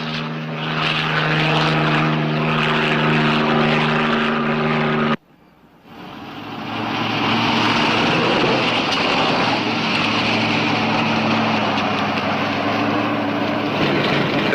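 Police helicopter in flight during a highway patrol search, its engine and rotors droning loudly with steady tones, cutting out briefly near five seconds before swelling back to a sustained roar.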